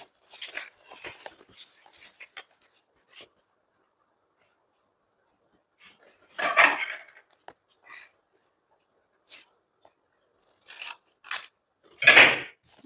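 Scissors cutting a paper blouse pattern along the shoulder line, in short bursts of crisp snipping and rustling separated by quiet pauses, close up, no talk.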